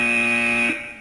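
A single loud, steady electronic buzzer tone holds for under a second, then cuts off, leaving a faint hum.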